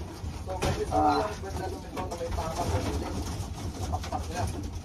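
Racing pigeons cooing at their loft during a one-loft race event, a soft low cooing burst near the start amid a busy background with voices talking throughout.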